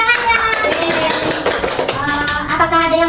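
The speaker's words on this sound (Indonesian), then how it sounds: "Bagus, tepuk tangannya." Classroom audience applauding after a group presentation, a burst of quick overlapping hand claps close by, mixed with a few children's voices.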